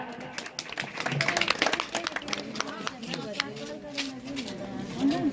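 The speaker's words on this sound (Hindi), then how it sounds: "आप लोग तालियां बजाएं।" Scattered clapping from a crowd at a local political gathering for a ward deputation, strongest early on and then thinning, heard under someone talking over a loudspeaker.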